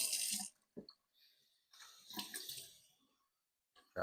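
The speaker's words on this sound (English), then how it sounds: "Now, this is warm water." Warm water poured into a jar of tomato seeds, quiet splashing gurgles in short bursts with brief pauses between pours, close and soft.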